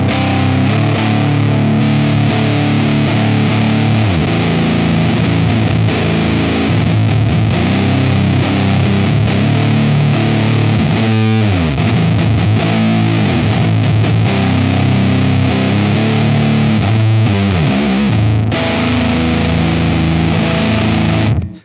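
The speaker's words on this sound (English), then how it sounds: "So let's go ahead and play a little bit and then kick on that full boost, the full frequency darker boost side of the bucket of nails." An electric guitar plays through a Farm Pedals Spirit Animal with the full-frequency, darker boost side of its Bucket of Nails engaged, giving a loud, continuous, heavily distorted tone with a brief dip midway.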